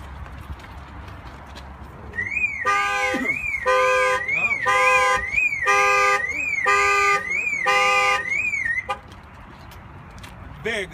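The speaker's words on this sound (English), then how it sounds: "I'll show you how this alarm works." A 2015 GMC Denali's car alarm goes off loudly, cycling through several rapid bursts of chirping, warbling siren tones for about six seconds before cutting off. Someone speaks briefly before and after.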